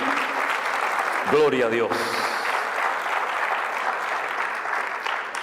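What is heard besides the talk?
church congregation applauding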